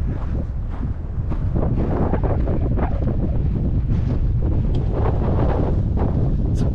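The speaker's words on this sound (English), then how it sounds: "It's a bit windy." Wind blowing hard across an open spot on the Rio Grande in New Mexico, a loud, continuous buffeting roar striking the microphone in uneven gusts with no voices.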